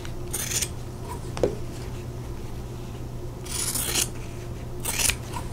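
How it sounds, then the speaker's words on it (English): Scissors cut through the fabric corner of a quilt block in a few crisp, close snips spread over several seconds, with soft rubbing of cloth in between. "I'm going to trim off the outer corner, leaving a 1/4 inch seam allowance"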